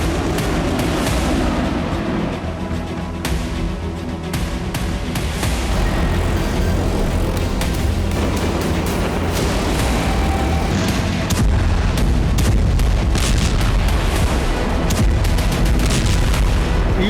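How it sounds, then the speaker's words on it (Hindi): Gabriel missile strikes exploding across Beirut during Israeli attacks on Lebanon, heard as a loud, continuous barrage of booms and bursts of gunfire-like cracks with no talk. "बेरूत में कुछ ही घंटों के अंदर 40 गैब्रियल मिसाइलें फायर की गईं।"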